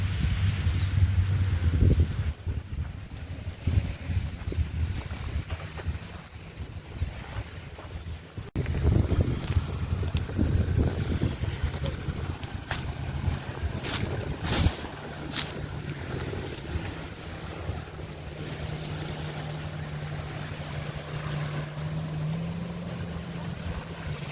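Boat ride out from Paradise jetty in Langkawi, Malaysia, with a steady engine drone, water rushing past and heavy wind buffeting the microphone throughout.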